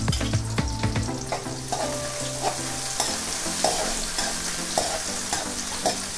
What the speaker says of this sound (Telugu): ఆనియన్స్ లైట్ బ్రౌన్ వచ్చేదాకా కుక్ చేసుకోవాలి